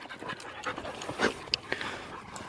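Excited dogs pant rapidly and steadily close by, the breathy rhythm running throughout with a few sharper bursts and small whimpers mixed in.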